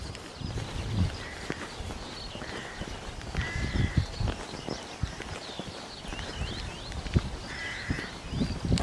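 Crow caws ring out repeatedly over steady hoof clip-clops and outdoor bustle, fairly close and clear.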